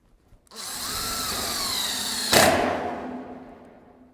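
A power drill drives screws through wood backing inside a wall: one steady, close whine lasting a few seconds, a sharp bump in load near the end, then a fading spin-down.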